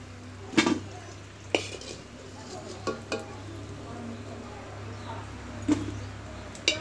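Fried snacks made from flour and semolina being lifted out of a pan of oil, with scattered sharp metal clinks and scrapes against the pan over a low steady hum, close by and without talk.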